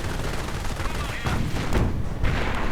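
Dense battlefield gunfire rattles in a World War II strategy video game as a Stuart fires on a Panzer IV, a continuous mix of shots and explosions running throughout under a voice talking.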